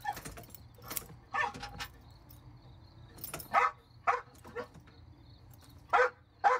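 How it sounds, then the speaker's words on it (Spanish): A dog gives several bright, happy barks and yips in short bursts spread across the clip, fairly close, with quiet gaps between them and no talking. "Es un ladrido feliz, está feliz como yo."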